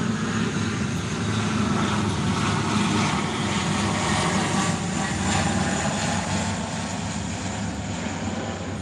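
A heavy airliner swinging around on approach to land, its jet roar a loud, steady, continuous rumble that stays up close for the full length with no one speaking.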